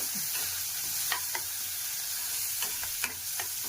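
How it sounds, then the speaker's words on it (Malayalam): Mixed curry ingredients being sautéed in a pan, with a steady low sizzle under scattered scraping and stirring clicks from a utensil, close and moderately loud. "എല്ലാം കൂടി ഇട്ടൊന്ന് വഴറ്റി"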